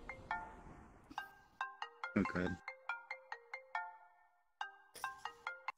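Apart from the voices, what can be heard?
phone ringtone ringing in VRChat video game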